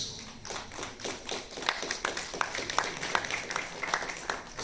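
An audience at a swearing-in ceremony for Peruvian regional councillors claps steadily, a moderate crowd of close individual hand claps forming a lively, sustained round of applause with no talking over it.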